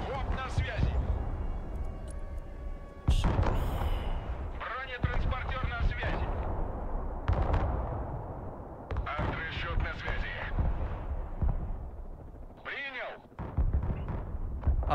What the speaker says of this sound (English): Artillery shooting on the left side.